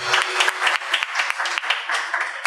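Applause from a church congregation during a Spanish-language sermon, a steady wash of many hands clapping with rhythmic surges, loud and close, with a voice faintly under it at the start.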